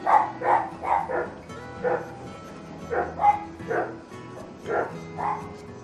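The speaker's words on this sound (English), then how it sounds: "I don't know what my dogs are barking at." Several dogs bark repeatedly in uneven bursts, some sharp yips among deeper woofs, fairly close with a steady low hum underneath.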